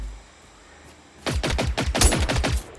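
A tank in the video game Generation Zero opens fire after a quiet second, unleashing a loud rapid burst of machine-gun shots in a fast ragged rhythm that continues to the end.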